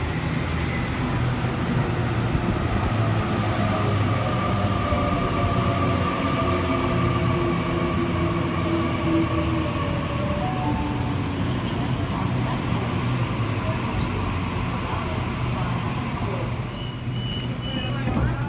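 An A-set double-deck electric passenger train departing Waratah station, a loud continuous rumble of wheels and traction motors with whining tones that holds steady throughout, with no voices.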